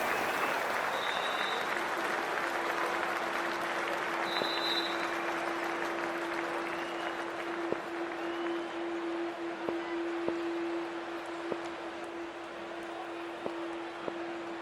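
Steady applause from a large stadium crowd in the Cricket 24 video game, covering an IPL T20 match between Royal Challengers Bengaluru and Punjab Kings, holding a continuous wash of clapping with a held tone and scattered sharp knocks.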